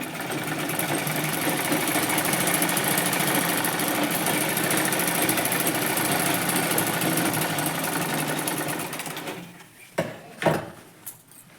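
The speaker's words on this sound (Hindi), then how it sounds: "ऐसे सिलाई लगा लेंगे कि हमारे नीचे के फैब्रिक पर भी सिलाई आनी चाहिए" A sewing machine stitches through stacked fabric layers of an organizer made from an old salwar. It whirs loudly and continuously for about nine seconds, then stops, followed by a few sharp handling clicks.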